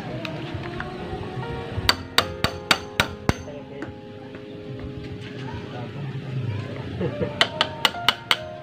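Sharp metallic strikes in quick bursts, a handful of hammer blows, then a pause and another rapid series, over low background chatter.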